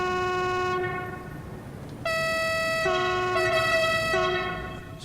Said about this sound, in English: It's got a nice horn.